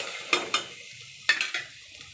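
Ginger garlic paste fries with onions in a pressure cooker while making tomato rice, with a few sharp spoon scrapes and clinks over a faint sizzle, close by.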